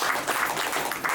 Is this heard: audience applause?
yes